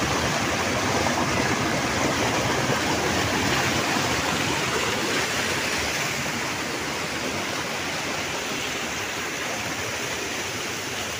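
Water falls from above at a crab-catching spot, a loud, dense, continuous roar that stays close and constant throughout with no pauses.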